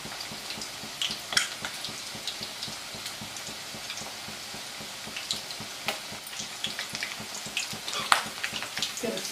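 Mandya-style sesame chicken kabab fries in a pan over a low flame, a soft, steady sizzle broken by scattered crackles and pops close by.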